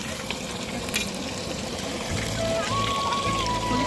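Chicken pakora frying at an outdoor picnic: a steady broadband sizzle of hot oil that grows denser and louder halfway through, with faint thin tones and clinks above it and no talk.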